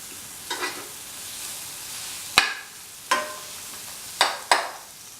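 Turmeric powder is stirred into a simmering yam and ash gourd stew, with a faint sizzle underneath and a few sharp spoon scrapes against the pot at irregular intervals.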